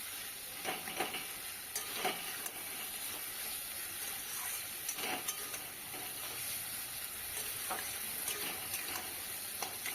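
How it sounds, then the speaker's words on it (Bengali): Tiny kachki fish cook with spices and a splash of water in a pan for a chorchori, giving a continuous soft hissing sizzle punctuated by scattered scrapes and taps of a stirring spatula, close and moderately quiet. "একটু জল দিয়ে কষিয়ে নিচ্ছি"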